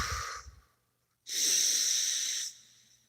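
A single long, deep breath, a rushing airy exhale held for about a second after a brief earlier breath, close and fairly loud with no talking over it.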